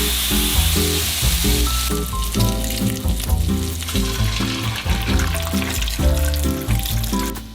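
Garlic frying in a pan sizzles steadily and loudly for several seconds, with rhythmic background music running underneath.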